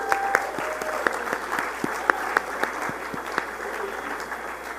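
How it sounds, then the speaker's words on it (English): An audience at an international congress applauding, a steady wash of clapping with distinct, sharper claps from people nearby and some faint voices underneath. "Give yourselves a round of applause."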